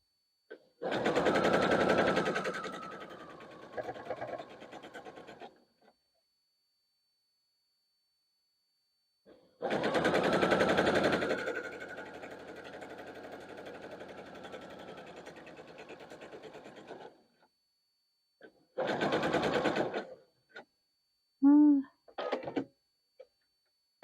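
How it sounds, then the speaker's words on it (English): Sewing machine stitching quilt blocks together, loud rapid mechanical chatter in three separate bursts split by silence, followed by a few quick clicks and knocks near the end. "every time it cuts, I am grabbing new blocks to sew together"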